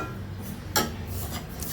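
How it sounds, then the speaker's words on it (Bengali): A metal lid lifted off a pot of cooked bottle gourd and mung dal, with one sharp clank followed by soft scraping and faint rattles. "এবার আমি ঢাকনাটা তুলে নিচ্ছি"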